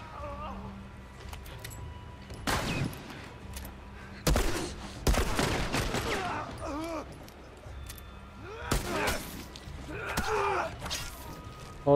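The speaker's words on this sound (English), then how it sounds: "Where am I getting shot from?" Bursts of gunfire in The Last of Us crack out in several irregular volleys, some single shots and some rapid clusters, amid game noise, with a player talking between the shots.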